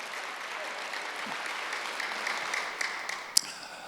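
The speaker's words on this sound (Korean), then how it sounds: "박수로 하시오." Congregation applauding during a Wednesday church worship service, a steady wash of clapping from many hands that holds evenly across the moment, moderately distant, with one sharper clap near the end.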